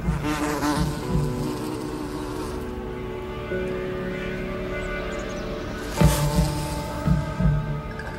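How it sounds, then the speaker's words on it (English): A small bee buzzes steadily and close by in a continuous droning hum, with a louder swell near the end against a faint background. "it's just a little bee."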